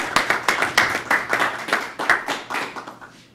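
A small group at a town council meeting claps briefly for a member, a quick run of close, crisp hand claps that fades out after about three seconds.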